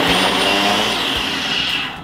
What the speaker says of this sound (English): simple blend it for roughly about 3 to 4 minutes on a good blender.